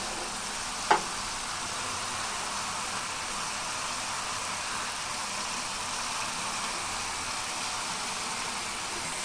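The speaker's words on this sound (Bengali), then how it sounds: "কষানো প্রায় শেষ এখন আমি মাছটা দিয়ে দিব" Rohu fish dropped into a pan of sizzling, well-fried spices, a brief sharp splash and hiss near the start, then a steady, even frying sizzle continuing alone at moderate loudness.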